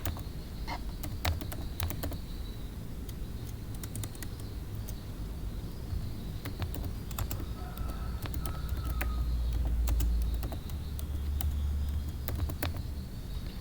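Keyboard typing on a computer while text is entered in a Microsoft Word document, scattered soft clicks and taps over a low steady room hum, with no speech.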